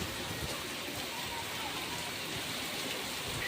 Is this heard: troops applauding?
no